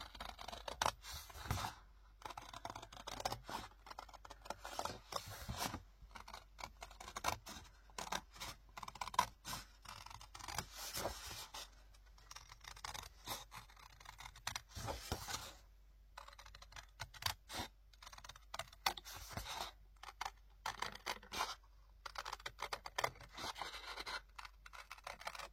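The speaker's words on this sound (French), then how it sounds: "Alors, je viens couper mon cercle." Scissors cutting a circle out of paper for a crafting project, with repeated quiet snips and rustling paper scrapes in irregular bursts, close and soft, without talk.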